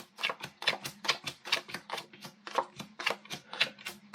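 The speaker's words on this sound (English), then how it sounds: "I deal the cards out." Playing cards are dealt one at a time onto a table during a close-up card trick, a brisk even series of about ten sharp flicks and slaps.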